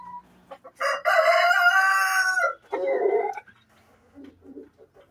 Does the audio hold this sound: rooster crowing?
yes